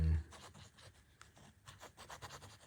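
A Parker IM fountain pen with a matte black finish scratches across paper while writing. Soft, quiet rasping strokes come close and in irregular bursts.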